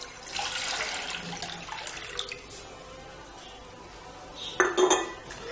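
Freshly made pomegranate juice is poured into a heavy pan or casserole to cook into molasses, a steady liquid splashing and rushing up close, ending in a brief clatter of the pan.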